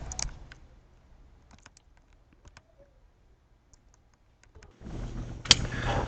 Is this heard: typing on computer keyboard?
yes